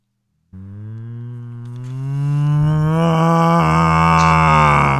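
A voice imitates a cow, giving a long, loud, drawn-out moo that swells in volume and holds steady for several seconds, recorded close to the microphone during a livestream.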